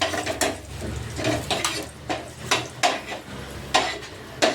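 Metal utensil scraping and clinking against a pan while fried curry leaves are scooped out for a restaurant-style chammanthi, with repeated sharp clatters in an irregular rhythm, close and fairly loud, no talk.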